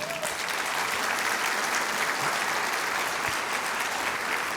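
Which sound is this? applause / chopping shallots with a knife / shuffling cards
applause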